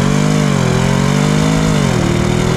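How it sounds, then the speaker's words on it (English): BMW M550i V8 with matte black paint, its exhaust giving a loud, steady engine drone with a slight dip in pitch toward the end, heard close and alone for about two and a half seconds. "The exhaust sound is good."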